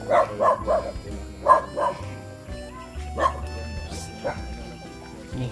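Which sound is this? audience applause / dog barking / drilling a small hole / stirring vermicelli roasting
dog barking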